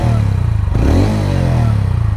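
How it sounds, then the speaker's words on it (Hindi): A TVS Ronin motorcycle idles with a steady, throbbing exhaust note, close and loud, then gets a quick blip of the throttle that briefly raises the pitch before it settles back to idle. "ऐसा कुछ एग्जॉस्ट नोट है"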